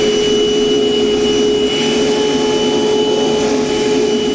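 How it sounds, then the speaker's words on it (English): A steady, loud vacuum whine with a constant high-pitched tone, running without pause throughout, as drill shavings are vacuumed from a Ram 2500 truck bed during a gooseneck hitch install. "Once it's all drilled out, vacuum up any shavings in the back."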